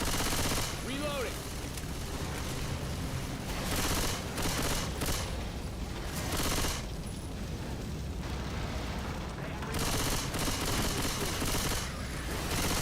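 Bots firing guns in Sea of Thieves, bursts of loud shots and booming blasts arriving in clusters with short gaps, close and heavy, with game sounds around and a voice at times.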